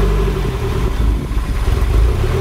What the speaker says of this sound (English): it is idling pretty rough